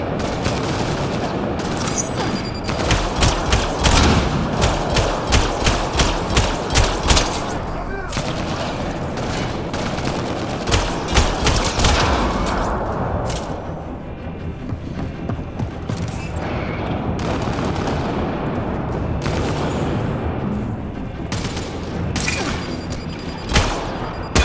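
Sustained gunfire in a Mass Effect Andromeda combat scene, with rapid bursts of shots and booming impacts that stay dense and loud throughout, and character voices talking over the fighting.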